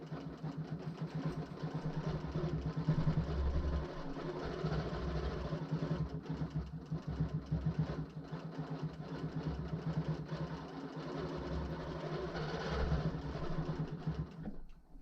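A quilting machine runs continuously while stitching curving feather patterns across a king size quilt, a quiet, steady motor drone with a faint rapid needle rhythm throughout.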